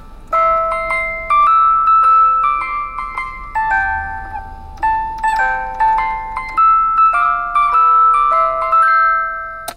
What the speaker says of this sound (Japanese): 運がよく見つけられたオルゴールってことですけど、これがですね、まあとにかく聞いてください